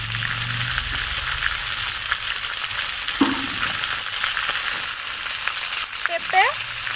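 Mixed vegetables such as pointed gourd, raw banana, carrot and papaya frying in ghee, giving a steady broadband sizzle throughout with a few stirring scrapes and clinks in the pan, close and fairly loud.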